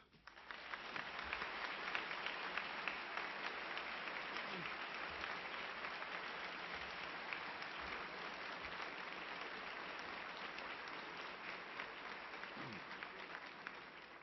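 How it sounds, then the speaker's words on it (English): Sustained applause from a large audience at a NASA Apollo 11 gala, steady dense clapping that swells quickly and holds at full strength throughout without a pause. "Please give a warm round of applause to the commander of the Soyuz part of Apollo-Soyuz and the first man to walk in space, Alexei Leonov."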